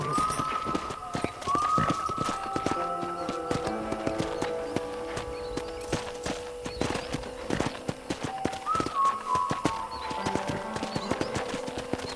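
Horse hooves clip-clop steadily in the Western video game Red Dead Redemption as a rider moves along at a walk to trot, rhythmic and fairly close, under a soft background music bed.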